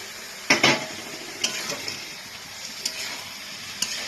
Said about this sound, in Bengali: এবার আমি এটার মধ্যে ভেজে রাখা বাদামগুলোকে দিয়ে দিচ্ছি